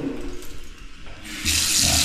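Water from the tap of a newly fitted kitchen sink in a renovated kitchen bursts on after a moment of low background noise, then runs in a loud, steady rush close by.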